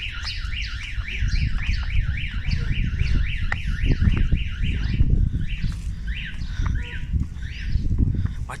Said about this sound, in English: What kind of alarm is that?